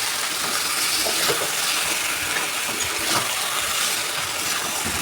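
Chicken meat dropped into hot oil, a steady, loud, hissing sizzle that runs unbroken throughout with no talking.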